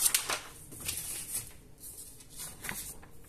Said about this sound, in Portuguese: Coloca mais uma folha.